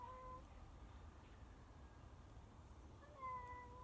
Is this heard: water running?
no